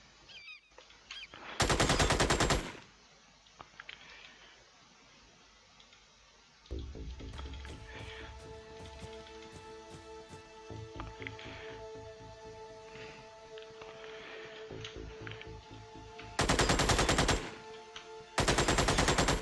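Gunfire in the Xenonauts video game, with sharp bursts of rapid automatic shots, a long stretch of scattered single and repeated reports, then two more loud bursts at the end.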